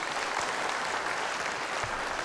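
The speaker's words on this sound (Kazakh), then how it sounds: "бір шапалақ ұрып қояйық бауырымызға." An audience at a celebratory gathering breaks into steady, dense applause, many hands clapping at an even level with no pauses.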